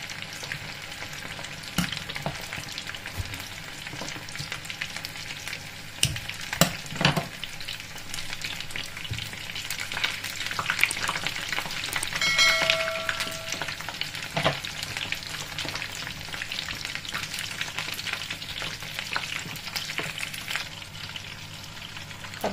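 Shanghai lumpia fry in a pan on a stove with a steady crackling sizzle of hot oil, occasional louder pops and stirring clatter, close and continuous with no talking.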